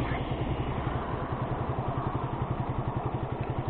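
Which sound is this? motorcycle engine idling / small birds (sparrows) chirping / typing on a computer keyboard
motorcycle engine idling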